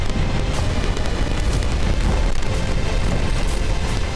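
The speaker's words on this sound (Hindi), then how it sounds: "क्रास्नोदर में भी यूक्रेन ने रूसी रिफाइनरी पर मिसाइल से हमले किए। एक के बाद एक कई धमाकों की वजह से रूसी रिफाइनरी पूरी तरह से ठप हो गई।" Missile strikes hit a Russian oil refinery in Krasnodar, heard as a loud, dense wall of rumbling booms and blasts that runs continuously.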